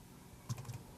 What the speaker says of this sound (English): Over here on my keyboard, I have to press Command Shift P, and then I type shell